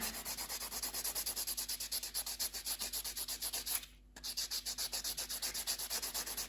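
Rapid, steady rubbing strokes of a buffer on an acrylic stiletto nail sculpted on a form, close and continuous, with one brief pause near the middle before the buffing resumes.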